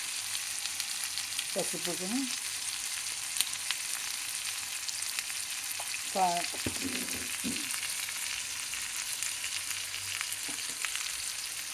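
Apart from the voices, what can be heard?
frying spices and tomato for malai kofta curry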